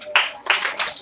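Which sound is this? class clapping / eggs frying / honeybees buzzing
class clapping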